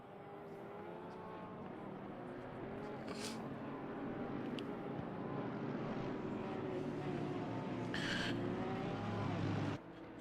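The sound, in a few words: racing car engine while driver rides the brakes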